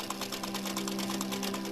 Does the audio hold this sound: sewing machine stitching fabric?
yes